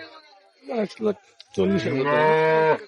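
A dairy cow mooing at the Raniganj cattle market, a few short grunts followed by one long, loud, close moo, with no speech.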